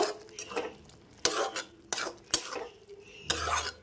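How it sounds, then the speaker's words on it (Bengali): A spoon stirs soybean and potato curry with fresh coriander in a pan, giving repeated scraping clanks against the metal at an uneven pace, close and fairly loud, with soft cooking noise between strokes. "এবারে নাড়িয়ে চাড়িয়ে নেব।"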